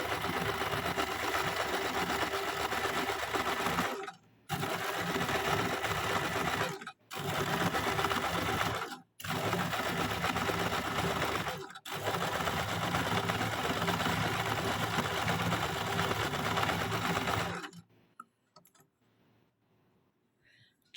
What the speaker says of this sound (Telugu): చూడండి ఇప్పుడు వెల్వెట్ దాని మీద నేను స్టిచ్ చేస్తున్నాను.